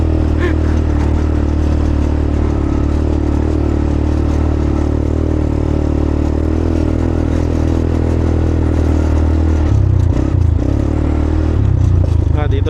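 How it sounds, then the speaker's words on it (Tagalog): A motorcycle engine running strongly at idle, a loud steady low drone with some clatter, continuous throughout. "Lakas ng makina, oh."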